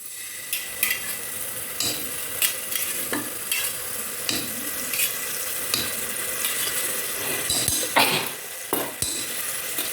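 Yogurt is stirred into beef mandi masala sautéing in a pan, a low constant sizzle broken by regular close scrapes and knocks of the spoon against the pot, no speech.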